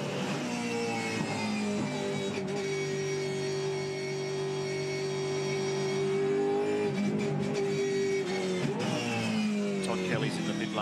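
A loud Supercars race car engine drones at high revs during a race at Winton, dipping in pitch as it shifts down a couple of times in short, sharp downchanges, with talk over the top.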